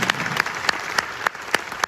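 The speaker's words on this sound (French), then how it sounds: "on peut l'applaudir" A small audience applauding at a magic tribute show, heard as sparse, evenly spaced sharp claps, about seven across a couple of seconds, fairly close and with no talk.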